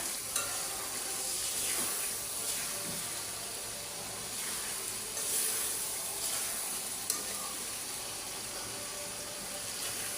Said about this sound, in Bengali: মুরগিটাও আমি ভালো করে কষায় নিব